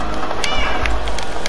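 Cat meows from the video game Stray, a couple of short mewing calls over busy game background sound, close and fairly loud.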